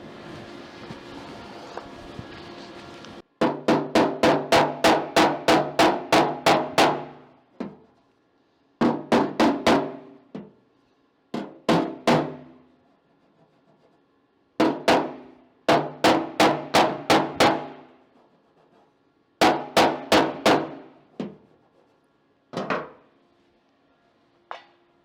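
Sheet metal on a custom tailgate panel is hammered around a corner in loud, close bursts of rapid ringing metallic blows, several quick strikes per group with short pauses between, continuing throughout.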